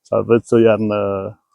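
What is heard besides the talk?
None of the usual background noises is heard.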